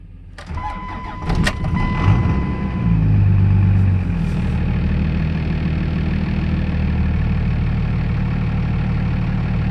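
A Ford F-350 or Dodge Cummins turbo diesel engine cold-starts: a short cranking burst, then the engine catches and settles into a loud, steady idle that runs to the end with no talk.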